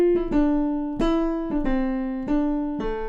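A piano plays a song's signature figure with its rhythm written out straight, giving a stiff, even pattern of repeated chords in pairs. The instrument is close and clear and plays alone.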